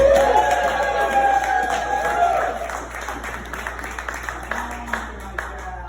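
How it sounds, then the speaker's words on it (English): An audience at a book release party keynote breaks into applause with cheering and whoops. It is loud at first, then thins into scattered claps as it fades. "Can I get a round of applause?"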